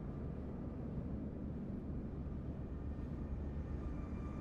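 Airbus A319 and A320 airliners in Microsoft Flight Simulator 2024 give off a steady, low, broadband engine rumble, constant and even throughout, with no voices.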